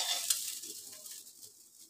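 Drained rice fries in a pan for bhuna khichuri, giving a soft sizzle with a few light stirring scrapes that fade quickly and stay quiet, with no talking.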